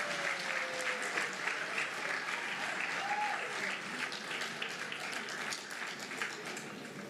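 Sustained audience applause fills a ceremony hall after an official is honoured, a dense even wash of many hands clapping at steady loudness for several seconds, with no voices rising above it.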